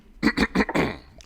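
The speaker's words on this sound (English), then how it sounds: "Clear your throat" A man clears his throat in a few quick, close, rough bursts followed by a short breathy tail, with no talking alongside.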